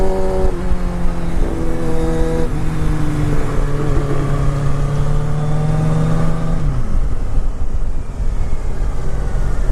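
A Triumph Speedmaster motorcycle engine rises and falls through loud, sustained throttle pulls against steady wind rush, heard from the rider's position.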